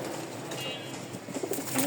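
A Lal Sundori pigeon with a white beak, in full breeding mood, gives soft cooing calls at moderate distance against a steady background hum, with a few louder coos toward the end.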